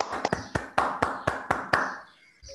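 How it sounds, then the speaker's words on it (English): Scattered applause from a small audience after a cosmology lecture, about eight separate sharp claps or short bursts spaced unevenly, fading out toward the end with a brief sound at the close. "A round of applause, if we can."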